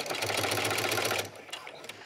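A sewing machine stitches around the corner of a scrappy patchwork dog leash, running steadily and close for over a second, then stopping to pivot with the needle down before a few short bursts.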